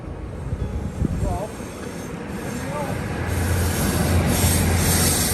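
A freight train passes through Koblenz Stadtmitte, wheels squealing in short rising tones over a rumbling roll of wagons that grows steadily louder and nearer.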